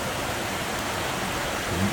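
Light rain shower, a dense steady hiss of falling drops filling the whole moment evenly, moderately loud and uninterrupted.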